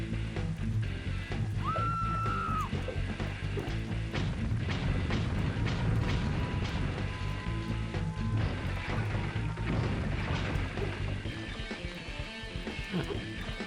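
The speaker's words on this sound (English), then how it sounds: "Even when you're that high, the bombs hurt you." Bomb explosions in the Nintendo 64 video game Rampage 2 boom repeatedly through a dense, loud layer of game sound, with low thuds, a brief whistle and steady rumble throughout.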